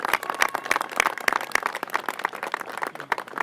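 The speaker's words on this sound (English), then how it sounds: "I think that deserves a round of applause for his leadership" An audience at a Maryland Purple Line public-private partnership event applauds the Lieutenant Governor, producing a dense, irregular patter of hand claps from a modest-sized crowd at moderate volume.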